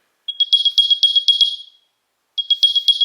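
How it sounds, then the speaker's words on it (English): Apple AirPods Pro 2 charging case sounding its Find My alert: a loud, close series of rapid high chirping beeps lasting about a second and a half, a pause of silence, then the chirping resumes. "And that noise is coming from the speakers of the AirPods Pro 2."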